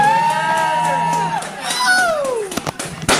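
A large protest crowd of tens of thousands outside Leinster House, with whoops and shouts rising over a stage sound with sustained tones, then scattered claps and cries, fairly loud and close.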